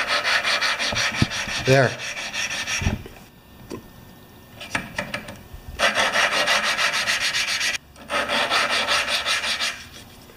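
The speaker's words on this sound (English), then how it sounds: "Now you're going to hear the sound of the grind get a higher frequency." A snowmobile engine valve being lapped with lapping compound on a 5 HP Sno-Trac, loud rhythmic gritty rubbing in long bursts separated by brief pauses, with a short spoken word near the start.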